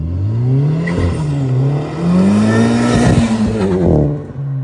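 A 1949 Mercury with a Coyote V8 swap revs hard, its engine note rising and falling through a couple of strong pulls, loud and close, with no voices.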